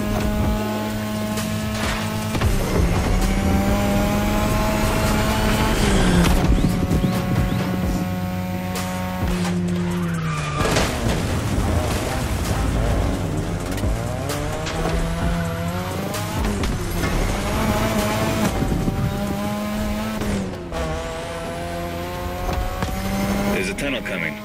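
A 2002 third-generation Mazda RX-7 with a rotary engine races in The Crew Motorfest, its loud, buzzing engine note rising and falling through gear changes over a steady driving roar, with a voice talking over it.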